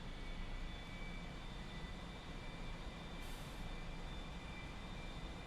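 Steady airplane engine drone during throttle-up in a flight video game, a continuous dense roar with a faint high whine, holding level throughout with no talk.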